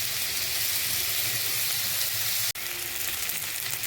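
Potatoes frying in oil until reddish-brown, a continuous crackling sizzle close by that cuts out for an instant near the end and then resumes at the same level.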